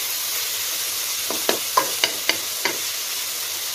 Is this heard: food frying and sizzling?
yes